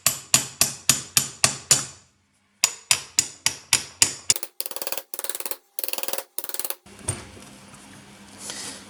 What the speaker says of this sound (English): I'm going to use a hammer to try and loosen